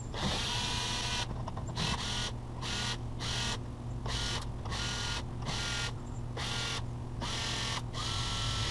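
A drill backs screws out of a board being scrapped for parts, in repeated whirring bursts separated by short pauses over a steady low hum, close and fairly loud.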